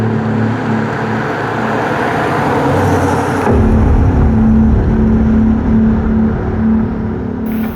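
A car engine runs loud and close, then surges into a heavier, lower rumble midway as the vehicle pulls away, with a steady droning hum throughout.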